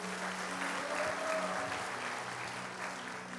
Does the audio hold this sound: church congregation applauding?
yes